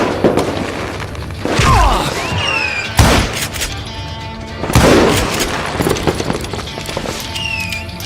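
Heavy booming gunshots in Call of Juarez: Gunslinger ring out in a few loud separate blasts with echoing tails, mixed with game voices and background action between the shots.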